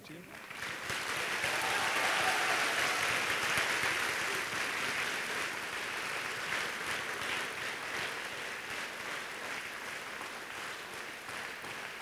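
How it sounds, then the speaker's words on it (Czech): Sustained applause from an audience at a fashion design competition award ceremony in 2019, a dense, even clatter of many hands that swells early and holds steady for about twelve seconds. "Tento potlesk je pre vás."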